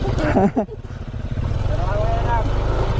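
A motorcycle engine runs steadily and loudly at close range on a road trip through Mindanao in the Philippines, with a brief dip near the start and voices talking over the rumble.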